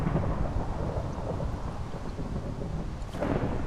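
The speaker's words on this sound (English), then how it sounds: "Oh, great. Thunder and lightning." Thunder rumbles low and continuous through a rainy storm in a Minecraft-style game, with a steady wash of rain and a swelling burst near the end.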